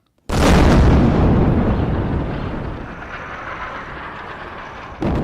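An airstrike explosion in Beirut's suburbs: one loud, sudden blast followed by a long rumbling roar that slowly fades, with another burst starting at the very end.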